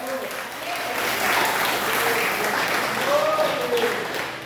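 A church congregation claps in praise during a sermon, a steady dense patter of many hands lasting several seconds, with faint voices and a tonal murmur underneath.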